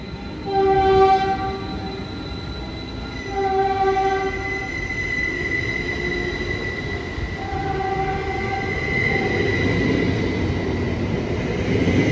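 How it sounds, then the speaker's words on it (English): A Caltrain commuter train, number 136, rolls past close by at Menlo Park station with a long, loud rumble of cars and wheels, its horn sounding in steady blasts over the passing noise. "this is Caltrain 136, highballing at a Melo Park station"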